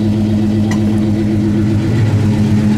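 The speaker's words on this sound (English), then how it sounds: "Dual exhaust sounds good" A 1958 Studebaker Silver Hawk with dual exhaust runs steadily nearby, a loud, even low engine rumble with a constant tone and no change in revs.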